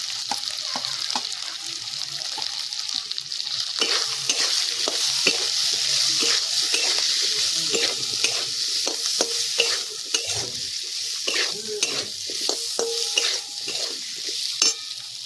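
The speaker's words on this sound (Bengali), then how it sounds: "মশলাটা আমার ভাজা হয়ে গেছে" Ground cumin, coriander, Kashmiri chilli and turmeric powders sizzle steadily in a pan for a vegetarian banana-flower dish, with a continuous frying hiss and frequent scraping stirs and clinks close by, with no talking.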